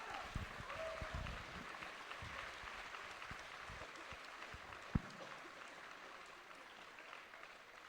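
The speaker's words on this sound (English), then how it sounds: "Give a hard applause for our ladies finalists" Audience applause for women's fencing finalists at a fencing cup finals, a steady broadband wash of clapping held at a moderate level throughout, with a sharper single clap standing out near the middle.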